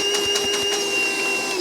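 A Milwaukee M18 cordless vacuum runs close by with a steady, even motor whine and a faint pulsing flutter, with no voices over it.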